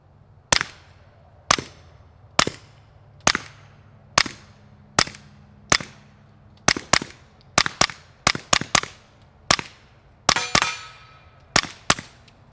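Smith & Wesson .22 pistol firing Remington 40 grain subsonic rounds, about sixteen sharp, close shots spaced roughly a second apart, a few coming in quicker pairs, each with a bright metallic clang and brief ring.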